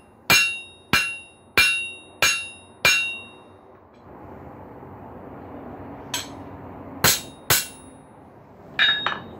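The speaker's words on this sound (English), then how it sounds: "Use the flat side of the hammer." Five sharp, evenly spaced hammer strikes ring on 5/8-inch steel round bar, then a pause with low rumbling, then several more irregular ringing blows.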